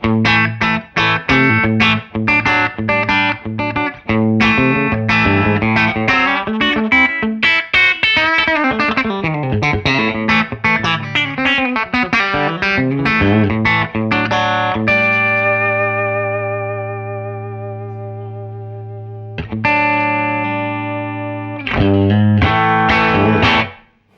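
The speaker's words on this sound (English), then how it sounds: "So I'll just turn the reverb off, and then when you go back to that bridge pickup, you've still got that great telly sound" Fender American Professional Classic Telecaster on the bridge pickup with reverb switched off, played through an amp as bright strummed chords and picked notes, ending in a long sustained ringing chord, then a short pause and a final strum.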